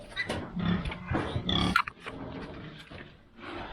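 Close, low grunting snorts from a pig, a series of rough bursts with short pauses, moderately quiet.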